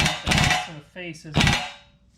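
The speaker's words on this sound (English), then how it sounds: "then we'll hammer the new one back in." Two sharp metallic hammer blows ring out close, driving a new ball joint into the control arm of a 1998 Honda Accord, with a brief voice between the strikes.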